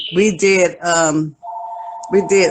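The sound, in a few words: telephone ringing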